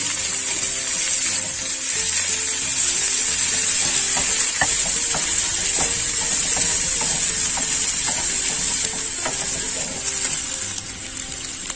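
Lime leaves and bay leaves frying in a pan, a steady close sizzle with a bright hiss and occasional small crackles and stirring clicks, continuing without talk.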